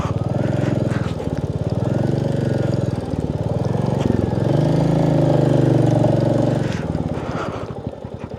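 A motorcycle engine labours up steep, rough terrain, a loud close mid-pitched drone that rises and strains in the middle and eases near the end, with brief speech-like sounds.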